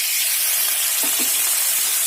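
A splash of water hitting sizzling spices in a pan gives a continuous steamy hiss, with a couple of faint clinks of stirring near the middle and no voices.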